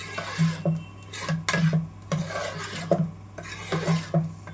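A spoon works through cooked dal and tomato in a pot, giving repeated scraping, mashing strokes in an uneven rhythm, close and moderately loud with no voices.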